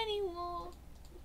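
A sheep in Minecraft gives a single wavering, falling bleat close up, fading into quiet background noise after about half a second.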